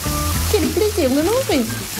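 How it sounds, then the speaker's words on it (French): Food frying in a hot pan gives a steady, loud sizzle throughout, while a person speaks French over it with expressive, rising and falling tones. "Et ça grésille."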